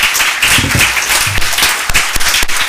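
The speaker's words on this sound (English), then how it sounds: "Please join me in a round of applause for all our speakers." Audience at a transatlantic digital economy dialogue event applauds its speakers, a dense round of clapping filling the room while a voice speaks over it.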